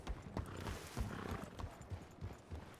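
Horse hooves clop unevenly on the ground in the WildRP video game, with a whinny breaking in partway through. The sounds are fairly close but quiet overall.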